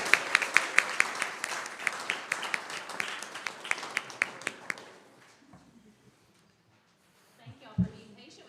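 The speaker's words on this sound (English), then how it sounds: "a round of applause for Woodway Elementary School" Round of applause at a school board meeting, sharp dense clapping from a small room for about five seconds, then tapering off into near quiet with a brief voice at the end.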